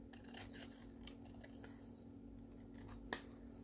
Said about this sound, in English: I'm going to cut on the inside of my pen mark.